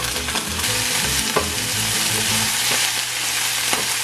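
Vegetables sizzling loudly in a hot pan as they are stir-fried for a Mexican-inspired pasta dish, with scraping and stirring clatters throughout, no voices.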